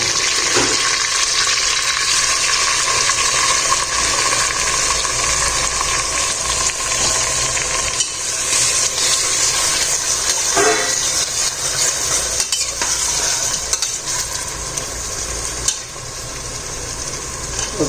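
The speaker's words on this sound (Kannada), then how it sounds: "ಆನಿಯನ್ ಒಳ್ಳೆ ಕೆಂಪಾಗಬೇಕು, ಅಷ್ಟು ಹೊತ್ತು ಫ್ರೈ ಮಾಡ್ಕೊಳ್ಳೋಣ" Onions frying and being stirred for chicken biryani give a loud, steady sizzling hiss that runs without a break, with occasional scraping and stirring knocks and no talking.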